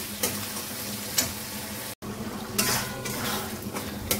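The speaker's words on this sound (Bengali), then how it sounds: "তো মাংস থেকে যে জলটা বেরিয়েছে, ওটার মধ্যেই কষানো চলছে।" Meat being sautéed in a clay pot in its own released juices, with a steady low sizzle and occasional stirring scrapes and clinks, close and continuous without talk.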